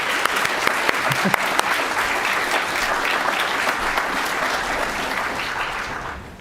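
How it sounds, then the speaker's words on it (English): An audience at an Earth Day climate action event breaks into sustained, dense applause that holds steady and loud throughout, then begins to taper at the end. "So one more round of applause."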